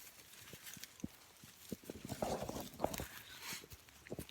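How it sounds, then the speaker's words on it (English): Goats wander over ground outdoors, their hooves making a scattered run of light clopping steps and shuffles, fairly close and quiet, with no talk. "Real trespassers are these goats."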